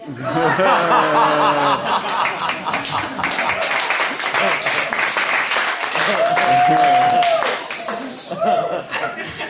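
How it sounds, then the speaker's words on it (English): Loud crowd applause fills a comedy show at a bar, mixed with laughter and chatter, a steady wash of clapping that swells and holds throughout. "That was a big applause."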